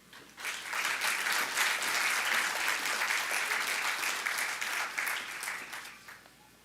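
Audience at a Doctor of Physical Therapy graduation hooding and pinning ceremony breaks into sustained clapping, swelling quickly, holding dense and steady, then tapering off near the end.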